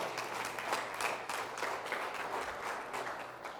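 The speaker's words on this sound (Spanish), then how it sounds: "Aleluya, denle una ofrenda de palmas al Señor." A church congregation claps as an offering of praise to the Lord, steady moderate applause from many hands at middle distance, without talk over it.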